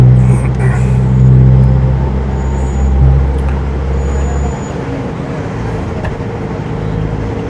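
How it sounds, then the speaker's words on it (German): An excursion tour bus in Rovinj idles loudly nearby with a deep steady engine rumble, a brief hiss like an air brake midway, then the engine note drops away to quieter street noise. "Der Bus, ich zeige dir mal, das ist so ein Ausflugsbus"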